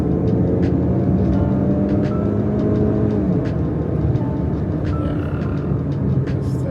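A 2024 Land Rover Evoque accelerates hard from a standstill toward 60 mph, a loud, continuous engine drone heard from inside the cabin, with the pitch holding long and climbing only slowly.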